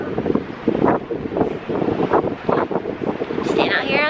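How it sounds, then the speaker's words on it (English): Gusty wind buffets the microphone with rumbling bursts on a beach, while voices talk faintly underneath. "It's so windy out here."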